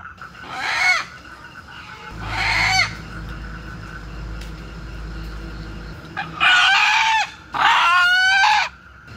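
Live red desi village chickens in a tribal village yard, with a rooster crowing loudly and close by in four separate bursts, two early and two near the end, with no talk.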